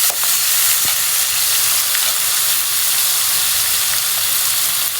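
Oil sizzles loudly and continuously in a pan while khud pulao cooks, a dense close hiss that stays even throughout with a few faint crackles.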